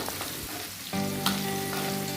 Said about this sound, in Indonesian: Nah, ini minyaknya udah panas ya teman-teman. Saya masukin dulu bawang merah sama bawang putihnya.